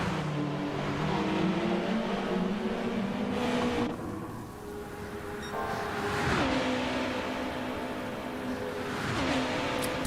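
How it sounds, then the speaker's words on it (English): Super GT race cars racing on a track, engines droning and revving continuously with pitch sweeps as cars pass, loud and steady throughout. "Mark tries to pick up a slipstream off of Mockin"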